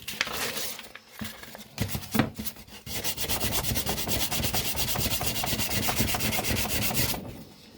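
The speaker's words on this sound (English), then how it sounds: "we will sand the primer with 800 to make that even smoother" Primer on a 1966 GMC headlight bezel is sanded with 800-grit paper: close, raspy rubbing strokes, a few irregular scrapes at first, then a fast steady back-and-forth rhythm that stops abruptly near the end.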